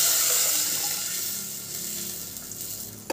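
Water poured from a vessel into a pot of idli sambar made without toor dal, a close, continuous splashing gush that fades gradually over about three seconds and ends with a brief knock.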